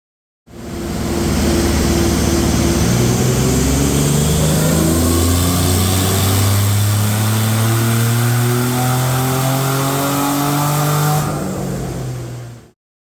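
A turbocharged VG30 engine in a Nissan Navara revs hard on a hub dyno at about 16 psi boost, a loud sustained pull climbing steadily in pitch for around twelve seconds before cutting off.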